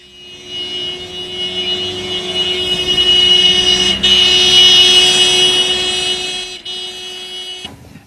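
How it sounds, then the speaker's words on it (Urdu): A car horn blares in a long, loud, steady tone as the vehicle passes, swelling and then dropping off, with road and engine noise underneath. "اگر کوئی گاڑی ہارن بجاتی ہوئی آپ کی طرف تیزی سے آئے تو اس کی آواز اور ہوتی ہے"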